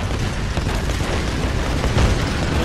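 A dense explosion roars through a Tomb Raider scene on PS4, one continuous loud blast that rumbles and crackles for a couple of seconds with no voices.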